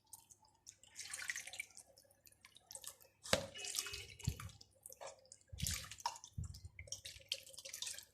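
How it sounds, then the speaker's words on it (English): Tapioca pearls being rinsed under warm tap water in a kitchen, with irregular splashing, dripping and trickling, punctuated by a few louder sloshes and knocks, close and fairly quiet. "we're gonna rinse it with water, warm water"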